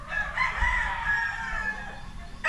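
A rooster crows once, a long, strained call close by, its drawn-out note clear against quiet backyard farmyard background in Cebu City.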